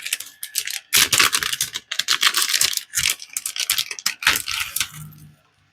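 Crinkly plastic packaging of dried flowers being handled and opened at the top, giving close, busy rustling and crackling bursts that fade out at the end, with no talking.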